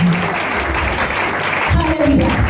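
Church congregation clapping and cheering for Jesus at a New Year's Eve crossover service, a dense, loud wash of applause with voices mixed in throughout.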